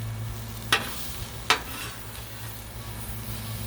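Vegetables stir and fry on a Blackstone griddle with a steady low sizzle, broken by two sharp scraping strokes of a spatula.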